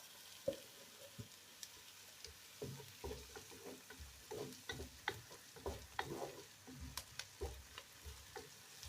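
Onion stirred and sizzling in a pot for fried cabbage: a steady low fry with frequent scraping stirs and clinks, close up, no voices.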